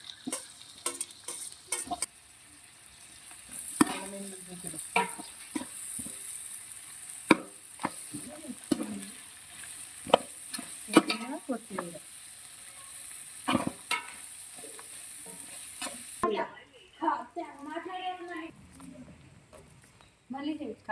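Shahi jeera and tomato pieces frying in a pan for paneer biryani, with steady sizzle and occasional stirring clatter under intermittent talk throughout.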